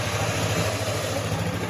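A Sniper 155 motorcycle's radiator fan runs continuously with a steady low hum and airy rush, close and moderately loud, with no talking.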